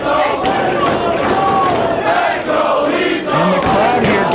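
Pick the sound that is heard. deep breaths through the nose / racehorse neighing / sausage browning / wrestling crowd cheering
wrestling crowd cheering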